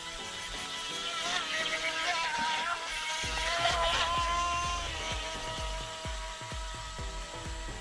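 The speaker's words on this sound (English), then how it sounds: "whenever I'm full throttle for a while, then it wants to cut power" A UdiRC UD1906 RC boat's electric motor whines at full throttle, a steady high-pitched drone that surges and drops in pitch as power cuts out and comes back.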